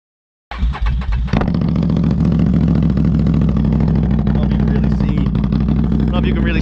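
A motorcycle engine during a loud exhaust sound test fires up abruptly, gives a quick throttle blip, then settles into a loud, steady, throbbing run close by.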